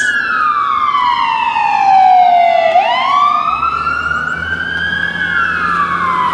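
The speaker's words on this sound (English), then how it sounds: "Sorry for the sirens, of course, at the worst times." A loud, close emergency vehicle siren wails, its pitch sweeping slowly down and back up, with a second siren tone layered over it and engine rumble beneath.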